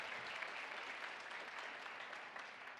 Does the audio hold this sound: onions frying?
no